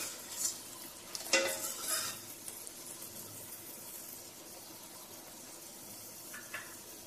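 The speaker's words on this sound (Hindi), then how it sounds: "ये देखिए, होल स्पाइसेस हमने फ्राई कर लिए हैं।" Whole spices fry in desi ghee in a pan, giving a faint steady sizzle with a few stirring scrapes and utensil clinks near the start.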